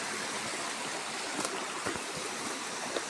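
Water gushing steadily from a broken, punctured hose in a forest, a continuous broadband rush with a few faint knocks, close and alone with no talk.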